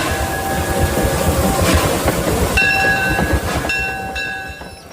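A classic toy train running, giving a steady mechanical rumble and rattle with a high whistle-like tone that cuts in and out several times, close and loud, with no talk.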